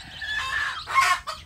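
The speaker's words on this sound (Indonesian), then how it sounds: "anak ayam kampung itu mengikut induknya pergi ke sana ke sini ya" Free-range Indonesian village chickens (ayam kampung) cluck close by, a few quick, raspy calls in under two seconds with no talking.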